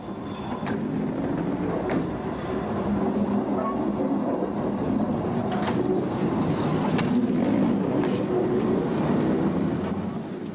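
Old Berlin S-Bahn electric rail car with two driver's cabs rumbling steadily along the rails, a continuous loud low roar with faint rhythmic clatter and occasional squeaks.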